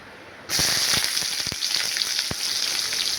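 Bay leaf and cumin seeds hit hot oil and burst into a loud, steady sizzle with crackling pops, close up and continuous, with no talking.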